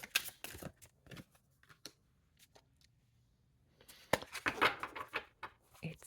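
Cards of a large tarot deck being shuffled, bursts of crisp riffling and flicking at the start and again near the end, with a quiet pause between, close and fairly soft.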